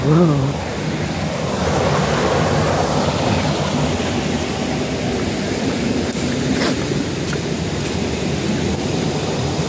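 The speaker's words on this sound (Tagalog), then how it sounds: "Lakas ng agos." A strong river current rushes at a spring, giving a steady, close wash of flowing water. A short voice is heard at the very start.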